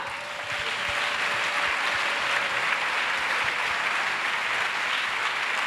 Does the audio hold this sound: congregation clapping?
yes